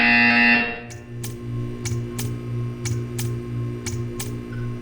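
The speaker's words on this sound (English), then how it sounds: "When you hear the buzzer, stare at the art" Buzzer in the video game Portal 2: a bright electronic tone stops abruptly, then a low pulsing hum runs on, overlaid by a series of sharp, evenly spaced clicking buzz pulses.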